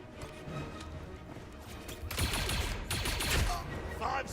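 Blaster gunfire and impacts in the video game Star Wars Zero Company, a low busy battle bed that swells into louder crashing shots and bursts after about two seconds, with faint voices underneath.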